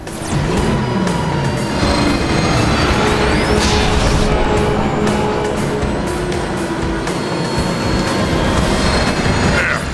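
A train rushes past in Transformers: War for Cybertron, a steady loud rumble of rolling wheels and clatter with faint metallic squeals, sustained close for the whole stretch amid game-action noise.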